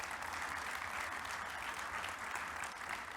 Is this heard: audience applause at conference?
yes